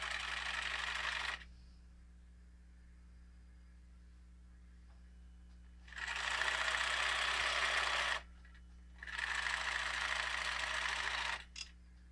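A sewing machine stitches a flour sack towel prefold in short bursts: one run fades out, then after a quiet stretch with faint electrical hum come two more runs of rapid whirring separated by a brief pause.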